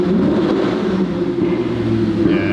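A Ferrari 488 fitted with a titanium exhaust holds a steady, toned engine drone, close and fairly loud, with a brief lift near the end.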